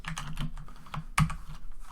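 Computer keyboard typing close to the microphone, a quick irregular patter of key clicks with one louder thump partway through, no talking over it.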